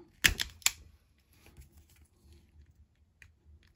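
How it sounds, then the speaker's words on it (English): Two sharp, close snips from wire strippers cutting wires while repairing a Vectrex console, followed by quieter faint handling clicks and rustle; no talking. "just snip some wires and tin the ends"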